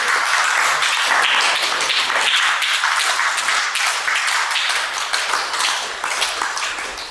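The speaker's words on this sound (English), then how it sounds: "Let's give a huge round of applause for this." Sustained applause from an audience at a Global Healing Day gathering in Seattle, dense steady clapping filling the room for about seven seconds, tapering slightly near the end.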